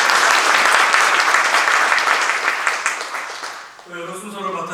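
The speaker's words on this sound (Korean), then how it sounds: "김종원 목사님께 다시 한번 감사의 박수 올려드립니다." A church congregation at a joint service claps loudly in thanks to a pastor, a dense burst of applause that fades out near the end as a voice begins speaking.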